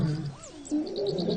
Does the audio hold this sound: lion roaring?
yes